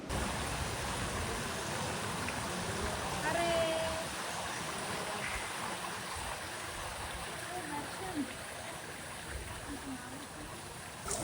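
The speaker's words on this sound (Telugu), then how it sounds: "అట్లా అన్ననో లేదో అప్పుడే వర్షం స్టార్ట్ అయిపోయింది" Steady rain pours down outdoors, a dense, even hiss of falling water that holds for the whole stretch with faint murmurs underneath.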